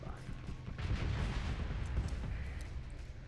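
A deep, rumbling explosion as a torpedo strikes an enemy ship in the space game Starsector, with a sustained crackling blast that fades over a few seconds.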